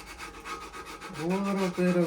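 80 grit sandpaper rubs back and forth on the edge of a wooden stair scroll in an 1884 house. The strokes are steady, close and rasping, with a brief squeaky tone near the end.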